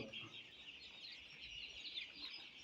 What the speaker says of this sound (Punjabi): ਇਹ ਬਰੀਡ ਡਬਲ ਐਫ ਜੀ ਦੇਸੀ ਚੂਜੇ ਦੀ ਬਰੀਡ ਹੈ